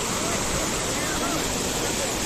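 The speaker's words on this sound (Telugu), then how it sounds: "ఇక్కడ చూడండి వాటర్ ఎట్లా వస్తుందో" Water rushing down a mountain stream along the Amarnath Yatra route between Sheshnag and Panchgani, a loud, constant broadband roar close by with no break.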